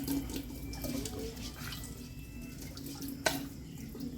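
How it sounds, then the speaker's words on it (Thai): Tap water runs steadily into a sink as a strainer is rinsed under it, with one sharp clink near the end; close and moderately quiet. "เอาตีกรองมาก่อนนะ ล้างปูนออกก่อน"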